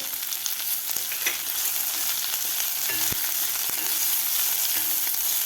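Onion, curry leaves and ginger-garlic paste fry in hot oil for bajra khichdi, making a steady, bright crackling sizzle that stays even throughout, with a few faint taps of a spatula stirring.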